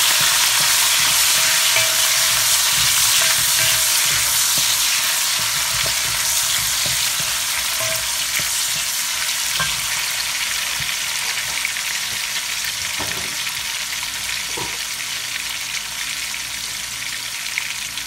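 Hot dogs sizzle loudly in a very hot pan, with a steady, dense frying hiss and occasional scraping stirs throughout, close up and with no talking.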